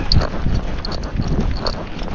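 A young Missouri Fox Trotter horse moves in a foxtrot gait, its hooves landing in a steady, close, rhythmic clip-clop.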